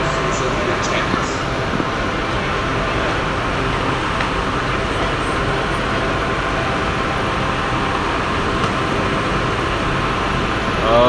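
A steady rumble of a train in motion, with continuous rolling and rattling noise filling the whole stretch and faint high squeaks above.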